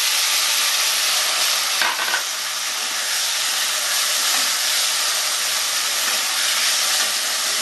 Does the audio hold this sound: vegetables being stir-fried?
yes